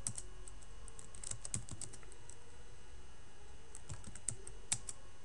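Computer keyboard keys tapped while entering a Linux terminal command, a quiet irregular patter of clicks with scattered sharper strokes and no voices.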